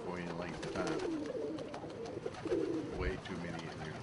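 Pigeons cooing in a crowded home loft, several soft low coos overlapping in bursts amid rustling and shuffling, close and steady.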